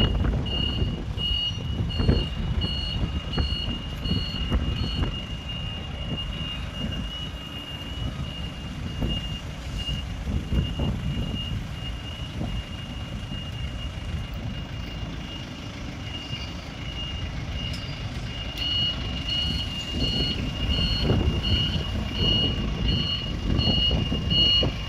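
A forklift reverses with its backup alarm beeping in a steady repeating pattern, loud and close, over a continuous low engine rumble, with no talking.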